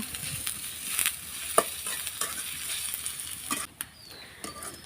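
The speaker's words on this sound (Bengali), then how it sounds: "এখন আমি এখানে বড় সাইজের দুটা পেঁয়াজ কুচি আর রসুন কুচি নিয়েছি এটা আমি এখন লাল লাল করে ভেজে নেব" Two large chopped onions and chopped garlic sizzle in a pan for a village-style taro leaf bharta, the steady frying hiss broken by several stirring scrapes and clacks, then quieting briefly near the end.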